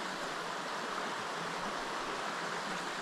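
River water rushing steadily during a river crossing on a waterfall hike near Pai, Thailand, a constant broadband wash of flowing stream, close and even throughout, with no voices.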